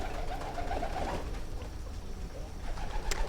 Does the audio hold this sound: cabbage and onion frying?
no